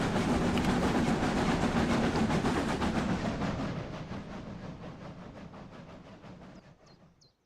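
A train rolls along the Brocken line in Train Sim Classic, a rhythmic clickety-clack of wheels over rail joints with a hissing rumble that starts loud and close, then gradually fades as it recedes.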